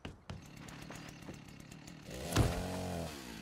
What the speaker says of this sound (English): I just built a chainsaw.